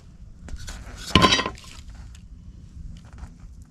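Scrap aluminum parts, including old broken horns, knock and clink together as they are handled, with a bright cluster of metallic clinks near the start and fainter rattles afterward, close and alone.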